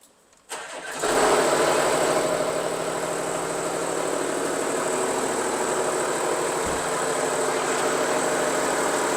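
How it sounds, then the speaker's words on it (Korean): A 2016 Audi A6 40TDI diesel with a faulty flywheel cranks and fires after a brief quiet moment, then settles into a loud, steady idle with a harsh mechanical rattle and one brief knock near the end. "제가 한번 시동 걸 테니까 한번 들어보세요"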